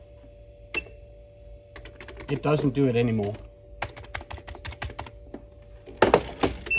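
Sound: typing on a Casio FP-1000 computer keyboard

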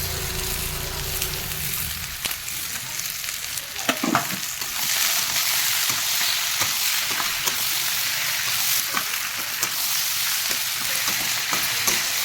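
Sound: fig, potato, peas and tomato frying in pan

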